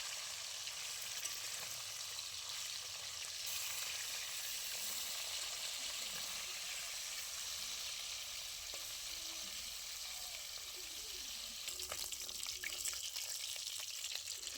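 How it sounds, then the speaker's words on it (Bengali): Fish fries in mustard oil in a wok with a steady, dense sizzle throughout, punctuated near the end by a few clinks and shifts as pieces are moved. "এক পিঠ হয়ে গেছে, উল্টিয়ে নেব।"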